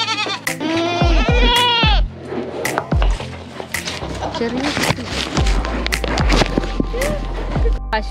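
A goat bleats at a family farmstead that also keeps cows. There are several wavering, nasal cries close by, with voices and knocking sounds mixed in between the calls.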